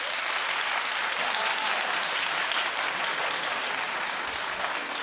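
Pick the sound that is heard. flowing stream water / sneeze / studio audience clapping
studio audience clapping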